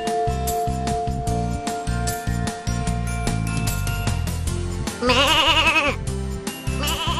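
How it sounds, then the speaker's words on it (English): Sheep bleating loudly and close, a wavering bleat standing out near the end over a busy patterned background of repeated sounds. "That's a sheep."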